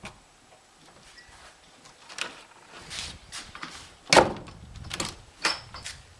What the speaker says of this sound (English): Now I got to mount this part of the door.